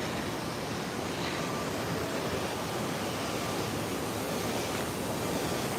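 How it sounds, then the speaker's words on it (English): Water splashing steadily from a fountain at Lincoln Center in New York City, a dense, continuous rushing wash close by, with faint city ambience and no talk. "let's take a walk up here by the fountain"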